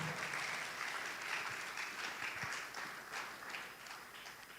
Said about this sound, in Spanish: ¿Será que le dan un aplauso al Señor Jesús?